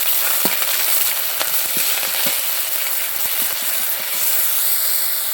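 Onion paste fries in oil with sugar and a bay leaf for a mustard koi fish dish, making a loud, continuous hissing sizzle with scattered faint taps of a spoon.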